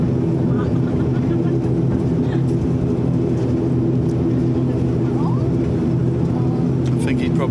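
A passenger airplane rolling along the runway just after landing in crosswinds at an airport on Flores, a loud, steady broadband engine and cabin roar heard from inside.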